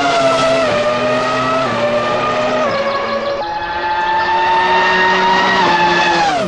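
A Formula One race car engine screams at high revs, shifting up through several gears, with tire squeal mixed in; the sound is loud, continuous and close, with no talking.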